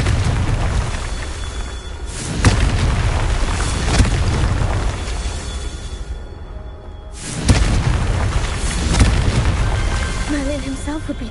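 A Confringo blasting spell goes off in the Hogwarts Legacy video game, with several loud booming explosions at about 2.5, 4 and 7.5 seconds over a rumbling game soundscape and music, and a voice speaking between the blasts.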